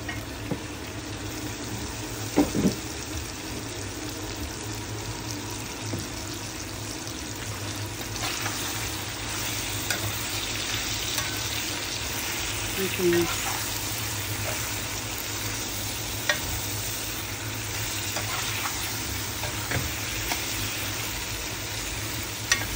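Tomatoes frying in a pan with meat for Thai-style beef, a steady low sizzle and bubbling with occasional stirring clinks, close and continuous throughout.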